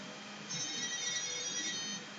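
Beeping from a Terminator LCD handheld video game, a thin high electronic tone that starts abruptly and holds for over a second, faint against soft background noise.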